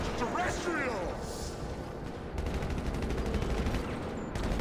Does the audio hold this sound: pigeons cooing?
no